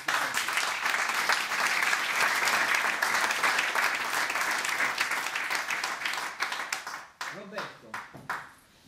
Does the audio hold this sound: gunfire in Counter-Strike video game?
no